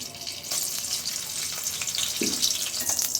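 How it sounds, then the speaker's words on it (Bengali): Dried red chillies frying in oil in a pan, the start of a home-cooked leafy greens dish: a steady, dense sizzle with a few soft stirring clicks, close and alone with no talk. "শুকনো মরিচ ভেজে নেব শাকের জন্য"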